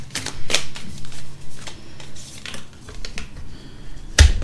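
Tarot cards handled and drawn up close, giving quick papery slaps, riffles and snaps at irregular intervals, with a sharp loud card snap near the end.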